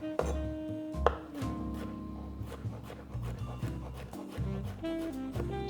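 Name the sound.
knife chopping cucumber into small cubes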